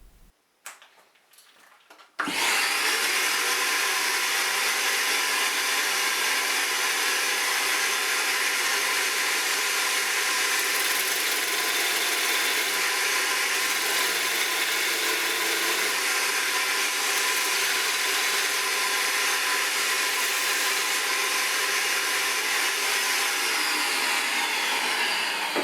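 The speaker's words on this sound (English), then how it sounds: "I'm going to chuck this assembly up into a power drill and run it against the disc sander" Power drill spinning a wooden spool clamp assembly against a disc sander during a guitar build, a loud continuous whirring grind that starts abruptly after a couple of seconds of quiet handling and holds steady.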